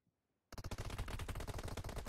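Loud, rapid automatic gunfire in the M15 Royale Pass battle royale game bursts in after a brief silence, with a steady stream of close shots rattling on without pause.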